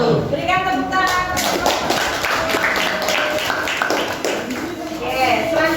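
A classroom audience claps after a group presentation, a lively patter of hand claps running throughout with voices and chatter mixed in.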